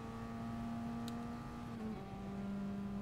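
Race car engine in Gran Turismo Sport, a steady droning tone held through a gearshift down into second on track, fairly quiet and alone with no talk.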